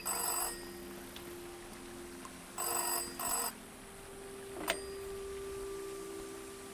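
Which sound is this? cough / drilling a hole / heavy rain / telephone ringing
telephone ringing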